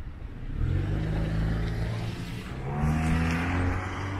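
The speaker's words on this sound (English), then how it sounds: "And that car had New York license plates." A car on 7th Avenue West in North Bay passes along the street with a steady engine drone that swells and then eases as it goes by, loud and close.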